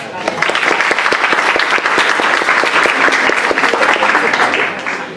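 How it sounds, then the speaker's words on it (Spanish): Audience at an international accounting seminar at a university bursts into loud, sustained applause, dense crisp clapping from many hands that holds steady for several seconds before easing slightly at the end. "Aplausos para ustedes."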